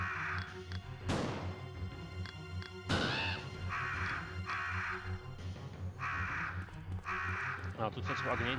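Crows in the PS1 game Biohazard 1.5 caw several times in harsh, repeated bursts over a steady low game ambience, with a few sharp crashing hits between the calls.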